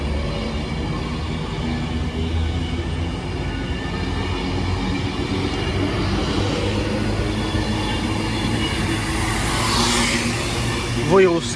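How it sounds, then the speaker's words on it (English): An Avanti West Coast Class 390 train, unit 390044, runs through Stoke-on-Trent station on the service from London Euston to Manchester Piccadilly, a steady rumbling roar throughout with a brief squeal near the end, a voice talking over it. "there goes the 1044 Avanti West Coast service to Manchester Piccadilly from London Euston"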